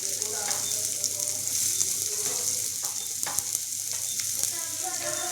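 Chopped onion sautéing in a pan gives a steady close sizzle, with the utensil scraping and stirring through it at irregular intervals.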